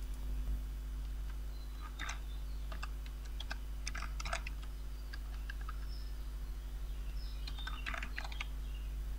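Bursts of keyboard typing on a computer keyboard as a search query is entered, clusters of quick clicking keystrokes with pauses between them over a steady low background hum.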